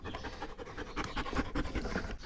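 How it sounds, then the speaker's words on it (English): A hot dog pants rapidly and steadily close by during a heatwave, breathy rhythmic huffs continuing without pause. "Don't mind the panting."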